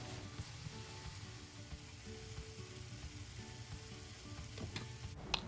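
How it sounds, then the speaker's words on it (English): Chicken sausages sizzle steadily in a heated pan on medium-low heat, a continuous close crackle and hiss with a few small pops and no talking. "we're going to go ahead and cook these sausages on medium to low heat for about the next 15 minutes"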